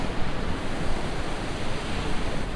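Barak Waterfall, also called Khao Duong waterfall, roaring as a dense, steady broadband rush of falling water heard up close and alone, with no voices.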